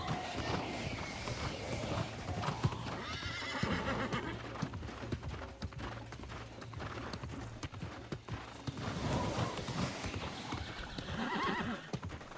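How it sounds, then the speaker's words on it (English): Horse mount hooves clip-clop steadily in the New World game, joined by a whinny or neigh, with the footfalls continuing throughout alongside ambient game sound. "Wanted to switch to a horse mount."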